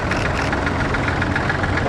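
A Ford Model F tractor, built between 1917 and 1929, idles at an old-time farming rally with a steady, loud, rough engine rumble and no talk over it.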